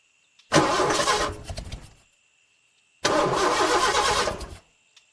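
A car engine cranks as the key is turned, two bursts of a starter grinding without catching, separated by silence, close and loud.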